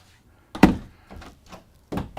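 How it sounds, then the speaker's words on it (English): A solid door on a Jayco Greyhawk 30Z RV thunks shut up close, followed by a few softer knocks and a second closing thud near the end. "Nice solid doors."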